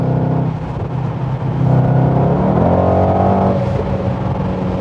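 A Mercedes-AMG GT63S accelerates hard on an open road, its engine note climbing steadily in pitch as the revs rise, loud and close from inside the car, with no talking.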